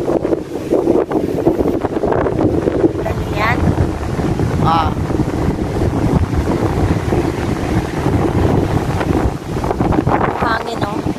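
Strong, cold autumn wind on an empty beach in Constanta, Romania buffets the microphone with a constant loud roar, with faint surf underneath and someone talking over it.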